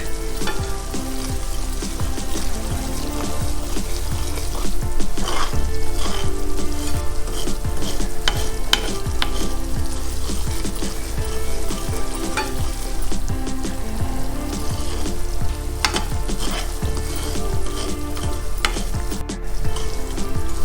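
Semolina frying in ghee for sooji halwa, a steady close sizzle with stirring scrapes running continuously at even loudness, no voices.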